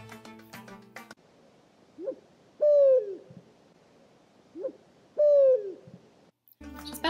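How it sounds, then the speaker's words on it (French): A desert eagle-owl calls in the Moroccan desert, giving two spaced, clear hooting phrases that each swell and fall, heard at moderate distance against quiet, with short bursts of other noise at the start and end. "On peut y observer le grand-duc du désert, qui ressemble à un hibou. On peut l'entendre dans cet extrait."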